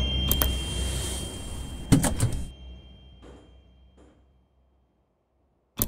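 Doors of a Moscow metro 81-775 train, 2020, shut over a rumbling ride noise with a faint steady tone: a couple of sharp clunks land together, then the sound fades toward quiet.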